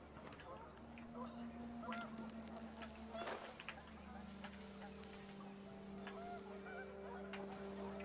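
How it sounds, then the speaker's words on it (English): Panicked geese in the video game What Remains of Edith Finch honk in a few scattered calls over wind and low ambient hum, fairly faint, with a narrating voice speaking over them. "The wind picked up, and panicked geese appeared and quickly went."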